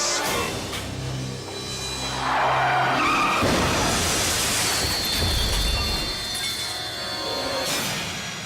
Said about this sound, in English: That's when I heard the big screech.